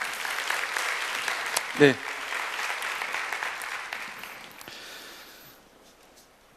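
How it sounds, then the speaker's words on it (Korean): A Korean church youth service congregation applauds its Gloria choir. The sustained clapping fades gradually while a single short spoken word cuts through near the middle. "다시 한번 글로리아 찬양대를 위해서 정말 우리에게 뜨거운 위로를 흘러 보내줘서 감사하다고 다시 한번 뜨거운 박수 부탁드리겠습니다"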